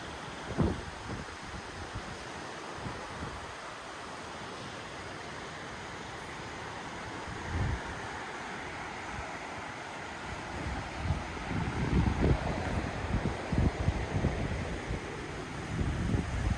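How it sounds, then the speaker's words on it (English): Strong wind outdoors on a very windy day during yard work: a constant roaring rush buffeting the microphone, with heavier gusts thumping in now and then and swelling louder toward the end. "It's super windy today, so I didn't fly too much."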